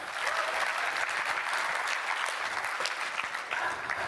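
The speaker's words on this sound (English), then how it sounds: "Yeah, clap it up, please." An audience claps steadily throughout, a dense even wash of applause at moderate distance with no voices standing out.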